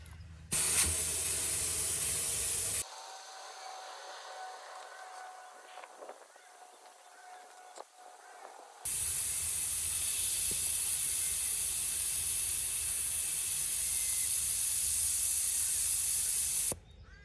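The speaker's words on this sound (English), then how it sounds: "the tyre will deflate to the 15 PSI" Car tyre air hissing out through a screw-on tyre deflator on the valve stem: loud steady hiss in two long bursts, a short one then a longer one, with a quieter gap between.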